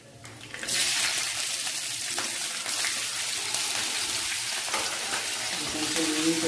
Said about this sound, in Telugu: కొంచెం వేయించుదాము.